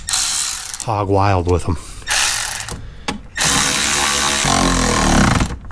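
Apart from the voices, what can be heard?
power ratchet driving small screws back in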